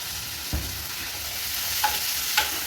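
Tomatoes and onions sautéing in a pan for kara kuzhambu, a constant close sizzle with a few brief spatula knocks and scrapes, no talk.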